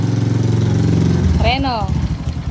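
The engine of a new motorcycle runs steadily with a loud, close, rumbling idle, while people talk over it.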